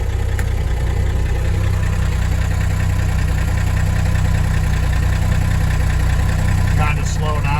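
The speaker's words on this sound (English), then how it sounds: "So now let's run the loader." A Freightliner FLU419 military Unimog with its loader engaged, the diesel engine idling in a steady low rumble that stays level and continuous throughout.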